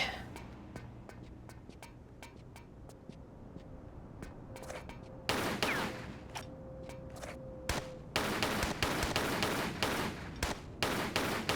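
Gunfire in the video game Tomb Raider 3 Remastered: a steady run of sharp, clicking shots, then louder, dense bursts of firing near the middle and end, with a faint tone running beneath.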